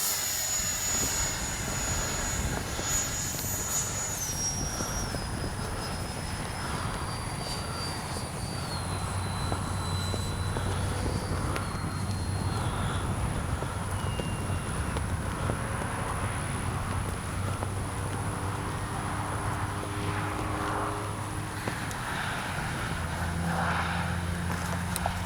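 E-flite Viper 64mm RC jet airplane flies with a thin, high ducted-fan whine that slides downward in pitch, fairly faint against outdoor background noise.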